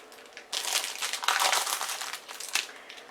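Plastic card kit packaging being pulled and crinkled open, a continuous close crackling that starts after a quiet half second and runs on with a sharper crunch near the end.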